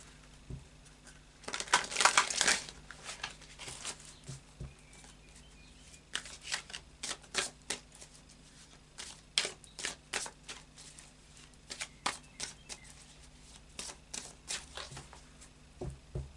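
A tarot deck of cards is shuffled in repeated bursts of crisp riffling and flapping, loud near the start and then in short irregular runs through the rest, with no talking.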